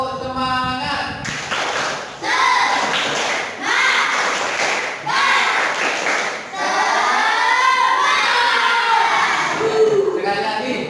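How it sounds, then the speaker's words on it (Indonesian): A classroom group performs the rhythmic Indonesian 'tepuk semangat' spirit clap in loud, patterned bursts of clapping separated by short pauses, with children's voices chanting along. "mari kita bertepuk dulu. Tepuk semangat, ya, untuk menambah semangat kita"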